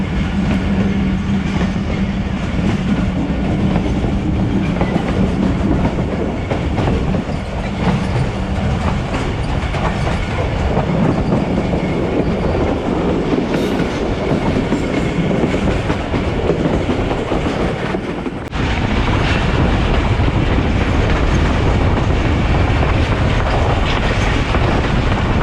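Thal Express, hauled by locomotive HB 28078 on Pakistan's Attock–Kotri ML2 branch line, runs at over 80 km/h: a loud, continuous onboard rumble with steady clickety-clack of wheels over rail joints, unbroken for the whole stretch.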